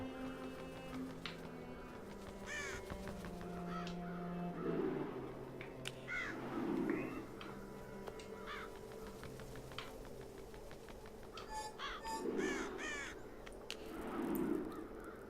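A crow caws in the video game Child of Light, several harsh calls in separate bursts over continuous game music, fairly clear and close.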